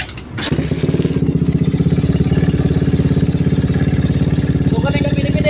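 A carbureted Honda Raider 150 motorcycle engine runs loud and close, with a fast, even pulsing chatter that holds steady after a brief clunk at the start.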